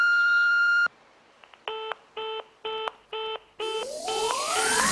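A long steady tone, then a string of five or six short repeated electronic beeps in a regular rhythm, ending in rising swoops and noise.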